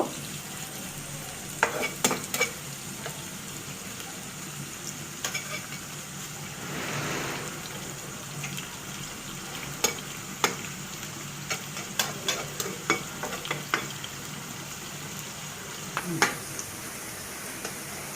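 Onions fry in a pan until browned, with a steady soft sizzle and occasional sharp clicks and scrapes of a spatula stirring, the clicks clustering more densely toward the end.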